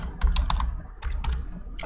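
Keystrokes on a computer keyboard while entering a search term for a GA4 analytics filter, two short bursts of quick clicks with a pause between, close and clear with no talk.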